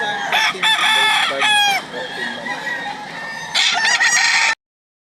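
Fighting roosters at a gamecock market in Lipa, Batangas, crowing loudly and close, with overlapping crows and clucks from several birds before the sound cuts off abruptly.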